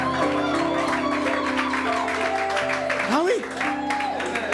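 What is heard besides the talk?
congregation applauding and cheering the Lord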